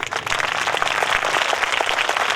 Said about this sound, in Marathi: पहिले विद्यार्थी टाळ्या वाजवून दाखवतील